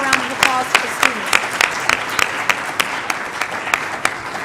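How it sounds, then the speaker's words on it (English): Audience claps for students at a financial planning challenge, a moderate round of applause with distinct individual claps punctuating the crowd, while a voice speaks briefly over the start. "join me in giving a round of applause to the students"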